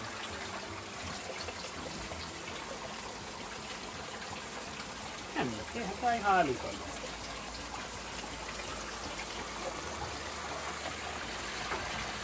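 Water sprays and leaks from the spray bar of a homemade drum sieve, a steady hiss and trickle running throughout with a few brief spatters near the middle, while someone speaks briefly.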